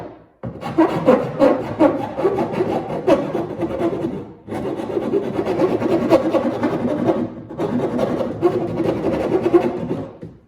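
Material being shaved off the edge of a hole cut in a Pelican Summit 100X fishing kayak, with loud continuous rasping scrapes in long repeated strokes, pausing briefly twice, no talking.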